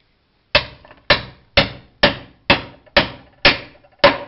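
A metal part being hammered into a drilled 10 mm hole: eight sharp, loud hammer strikes evenly spaced about half a second apart, each ringing briefly, close and alone.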